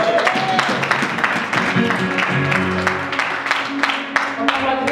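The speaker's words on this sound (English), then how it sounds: "Can you clap that for Jesus?" Applause at a Sunday church service: a congregation claps in a dense, steady patter for several seconds, fairly loud and close.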